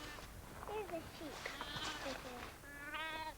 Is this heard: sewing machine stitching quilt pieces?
no